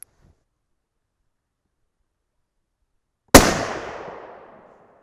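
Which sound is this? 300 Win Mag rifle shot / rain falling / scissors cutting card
300 Win Mag rifle shot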